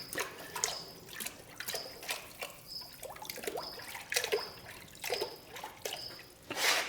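Hot forged hammer heads plunged into salt water at a forge give a steady watery trickle and bubbling, with repeated short sizzling bursts close by and no talking.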